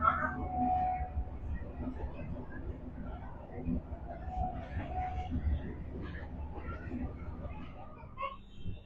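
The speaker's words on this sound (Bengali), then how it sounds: "ট্রেন এখন যাচ্ছে।" Sealdah–Bangaon AC local train running, heard from inside as a steady low rolling rumble with faint rattles throughout, and a murmur of passenger voices in the carriage.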